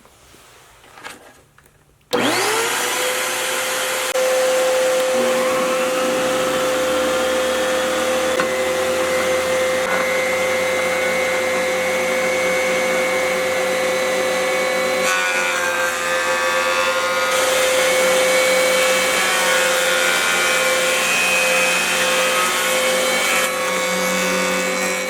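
A shop vac roars on and runs steadily through a small dust collector in a tiny workshop, a loud, constant whine with a sustained high tone that holds for the rest of the stretch, close and alone.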